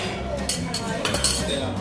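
Metal cutlery clinks and scrapes against plates at a seafood restaurant table in London while crab is eaten, with a few brighter taps standing out over a steady background of dining-room murmur and faint voices.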